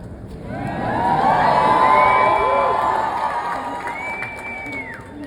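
Crowd greeting Buddhist monks on the Walk of Peace in Richmond, Virginia, cheering, whooping and shouting loudly, a swelling roar that peaks and eases over about five seconds, with some high shrill voices.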